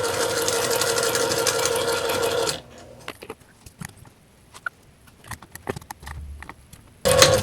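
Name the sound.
sewing machine stitching Halloween table runner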